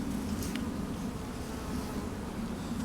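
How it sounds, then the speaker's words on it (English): Honey bees hum in a dense, steady buzz inside a freshly requeened beehive, close but fairly faint, with no voices. "this is a hive that I just requeened today"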